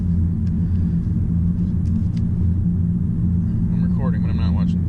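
A 2017 Honda Civic 1.5T turbo driving in third gear, heard as a steady low engine and road rumble from inside the cabin throughout, with a voice speaking faintly near the end.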